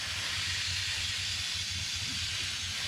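Garden hose spraying water onto the coil of a central air conditioner, a steady hissing spray with a low rumbling hum underneath, continuous and close, with no speech.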